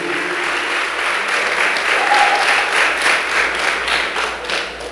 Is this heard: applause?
yes